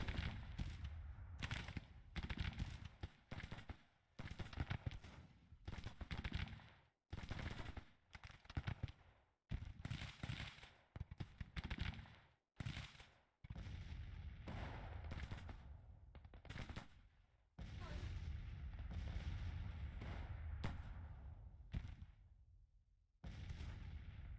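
Civil War musket volleys and artillery fire in the Grand Tactician strategy game arrive in rapid, clustered bursts and rolling booms. Short gaps of near-silence break up the barrage.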